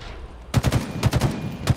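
Rapid gunfire in Halo Infinite multiplayer split-screen, several sharp shots in quick irregular bursts, close and punchy with no talk over them.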